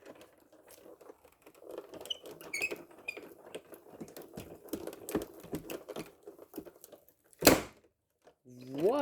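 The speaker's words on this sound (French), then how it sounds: "on va le passer dans la machine de découpe" An electronic die-cutting machine works through carbon paper with a run of small clicks, taps and mechanical rattles, followed by a sharp burst and a short whirring rise at the end.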